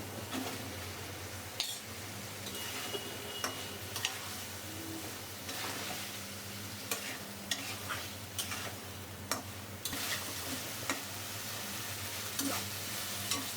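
Potatoes and pointed gourd sizzling in a pan with salt, giving a steady fry hiss broken by sharp clicks and scrapes of a spoon stirring against the metal, with no talking.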